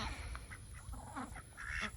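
Farm ducks quack in short, repeated calls over a low outdoor rumble, moderately close and fairly quiet, no talk.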